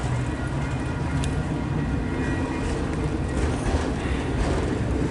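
A train rolls past during a double train meet, giving a steady, close rumble of wheels and cars with faint clicking throughout and no talk.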